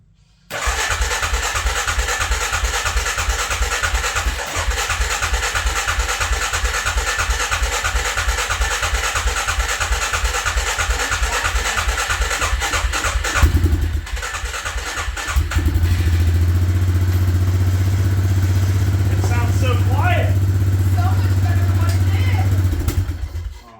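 Suzuki Vinson 500 ATV after a rebuild, the starter cranking in a long rapid chugging run, a brief pause, then the engine catching and running at a loud steady idle.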